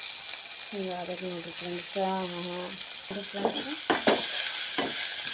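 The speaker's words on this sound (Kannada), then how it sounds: "ಟೊಮೆಟೊ ಮಿಕ್ಸ್ ಮಾಡೀನಿ ರೀ. ಒಂದು 2 ನಿಮಿಷ ಫ್ರೈ ಆಗಬೇಕು ರೀ ಅವು." A tomato mixture for tomato chutney fries in a pan with a constant bright sizzle and a few stirring knocks, while a person speaks briefly over it.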